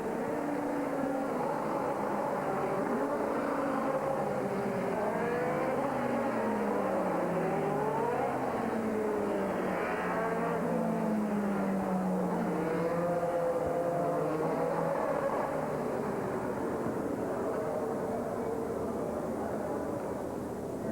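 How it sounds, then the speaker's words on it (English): Formula 3000 race cars idle and blip their engines on the Monza grid during the 2001 international series round, with overlapping, sweeping engine tones that run steadily under a commentator's voice. "Darren Manning comes to the grid, and they in fact are all lining up."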